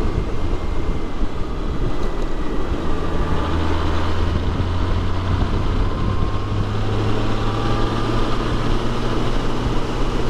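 A 2001 Honda Gold Wing 1800 six-cylinder motorcycle pulls from low revs, its smooth engine hum rising steadily beneath heavy, constant wind rush throughout.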